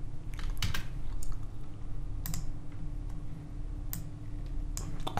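Fast, uneven typing on a computer keyboard with sharp clustered key clicks and a few harder slaps, close and steady over a constant low hum during a 3D modeling session.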